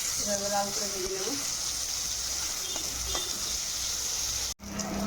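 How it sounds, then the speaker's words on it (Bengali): Pointed gourd fries in oil with turmeric and salt, making a steady hiss. A voice is heard briefly near the start, and the sound cuts out for a moment near the end. "এভাবে লাল করে ভেজে নেব।"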